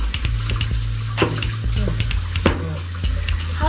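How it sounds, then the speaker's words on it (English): A kitchen tap runs steadily as hands are rinsed beneath it, with continuous close splashing and a few sharper splats where the flow hits skin and the sink, and no speech. "You can rinse your hands"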